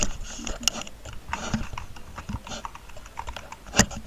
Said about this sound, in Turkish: Klavye sesi.